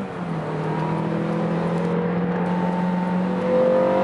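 Coupe cars launching at a drag race, a loud steady engine drone with rising harmonic whine as they accelerate away, swelling slightly near the end.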